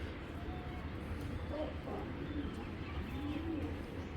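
Giribaz high-flying pigeons coo in a loft, soft low burbling calls repeating at close range against a steady background murmur, with no voices.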